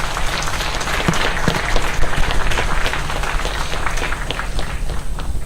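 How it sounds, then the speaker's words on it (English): A large conference audience applauds loudly and steadily, dense clapping filling the whole stretch without pause. "let's give a big round of applause to Ames Institutes."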